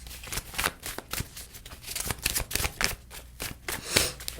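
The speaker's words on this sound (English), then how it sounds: "I'm gonna add 3 more cards here." Tarot cards shuffled and dealt out onto a table during a reading, with a steady run of close, crisp riffling slaps and flicks heard alone.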